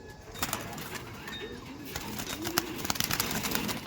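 Madrasi pigeons in a loft give soft, low cooing calls amid rustling, wing flutters and scattered clicks and thumps, close by and fairly quiet, with no one speaking.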